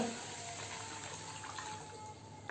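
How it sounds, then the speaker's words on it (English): Water is poured into a bowl holding citric acid crystals, a soft steady splashing pour that stays faint and continuous for a couple of seconds before ending. "then we will add 1 liter of water"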